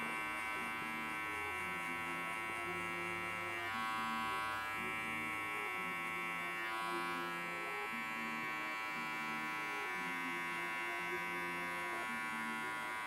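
Electric hair clippers buzz steadily and close up while cutting guidelines for a mid fade, with a strong hum and faint rhythmic changes in pitch as the blade moves through the hair.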